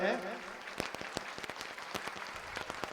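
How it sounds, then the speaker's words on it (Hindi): An audience at a youth meeting breaks into scattered, uneven applause, with a brief voice at the start, the claps sounding moderately distant and fairly soft in a large space. "हम लोग ताली बजाते रहे।"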